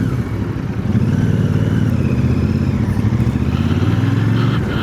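A Royal Enfield Super Meteor 650 cruiser motorcycle rides through São Paulo traffic, its engine giving a steady, loud, low rumble that holds continuously throughout with faint traffic clatter underneath.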